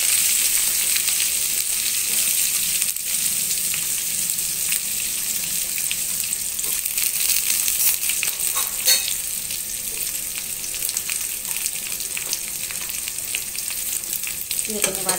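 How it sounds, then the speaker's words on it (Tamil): Small onions sizzle and fry steadily in hot oil with curry leaves for a mutton coconut milk curry, a continuous close crackle with occasional stirring and no talk. "கருவேப்பிலை பொரிஞ்சோம்னா சின்ன வெங்காயம் வச்சு வச்சுருக்கேன். சின்ன வெங்காயம் போட்டுக்கலாம்."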